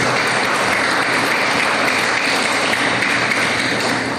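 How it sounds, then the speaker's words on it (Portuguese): Congregation in a church clapping for the Lord, sustained loud applause from many people at a steady level, tapering slightly at the end. "Dê um aplauso ao Senhor por isso, irmãos"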